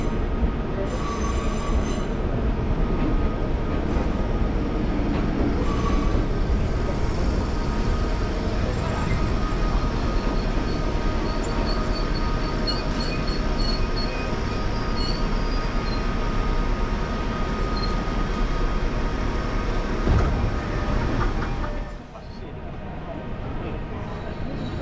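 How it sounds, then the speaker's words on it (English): A Fujikyu 6000 series local commuter train rolls into a station with a continuous loud rumble and high wheel squeal, the noise holding steady before dropping off near the end as it comes to a stop, with voices audible over it. "we traveled on this quaint Fujikyu 6000 series local commuter train. Here comes our ride now"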